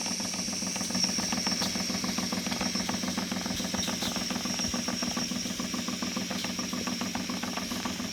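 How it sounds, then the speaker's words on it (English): A small alcohol-fired model steam engine runs steadily, its quick, even chuffing and mechanical ticking repeating over a soft hiss at a modest, close-up level. "All the workings of a real steam engine."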